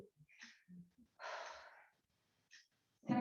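Breaths during a yoga stretch: a quick inhale, then a long, audible exhale, followed by short sniffs and a final gust of air, close and alone with no talking.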